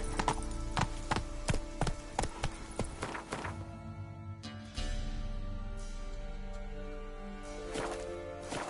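Horse hooves clip-clop in a steady trot, then settle into a softer, continuous gait in The Witcher 3 video game, fairly faint and close, with no talk over them.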